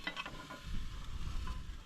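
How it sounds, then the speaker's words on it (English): Pot of fish boiling over on a campfire in the Australian outback, a sizzling, bubbling hiss of liquid spilling onto the hot fire and coals, close and steady for a couple of seconds. "Uh-oh, we're boiling over."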